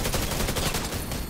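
Rapid gunfire in a first-person shooter video game, a dense continuous burst of shots filling the whole moment with no talking.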